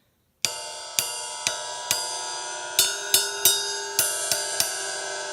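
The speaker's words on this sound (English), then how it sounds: "And then you got finally your ride cymbal." Ride cymbal on a drum kit tapped ten times in an uneven pattern, each stroke a clear pinging bell-like hit with a ringing sustained wash underneath, close and fairly loud.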